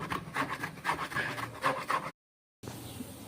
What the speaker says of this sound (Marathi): आता हे आपण किसून घेऊ